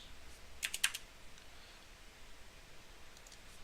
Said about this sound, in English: We'll just type in Darglings.